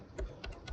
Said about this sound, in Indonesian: Kemudian kita ketik di sini Docker